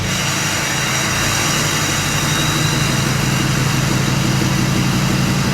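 A heavy Ford Powerstroke diesel truck engine idles at a loud, constant rumble close by, steady and unbroken the whole time with no voices.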